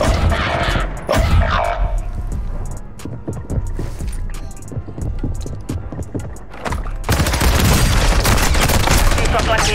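Gunfire in a Call of Duty Warzone 2.0 match, with sharp shots and bursts cracking repeatedly over dense battle noise, swelling into a loud, sustained barrage in the last few seconds.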